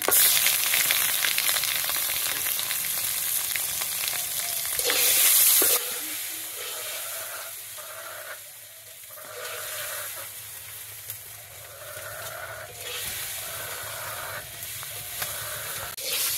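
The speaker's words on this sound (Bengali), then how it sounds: "মাছগুলো ভাজা হয়েছে" Fresh pond fish fry in hot oil, a loud close sizzle and hiss that drops to a softer, steady crackle partway through, with no voices.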